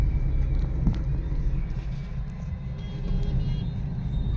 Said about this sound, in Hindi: ट्रैफिक रहता है यहाँ, कासना का बस स्टैंड है आगे।